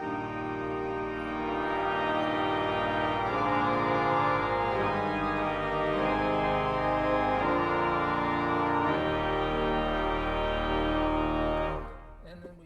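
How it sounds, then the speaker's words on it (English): A 1930 Skinner pipe organ with its swell box open plays a series of full, brassy chords, loud and rich with deep bass, changing every second or so before cutting off at the end. "And if I open the box, then it just sounds very brassy."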